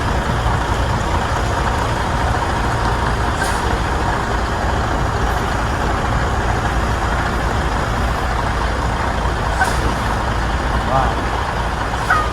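Semi truck backing a 53-foot trailer into a tight spot, its diesel engine idling and rumbling steadily with a few short bursts of hissing air as the brakes release, loud and close, with people talking over it.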